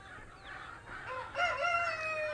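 A farm rooster crows once from a short distance, a rising, drawn-out call in the second half, with a few soft clucks and quiet outdoor background before it.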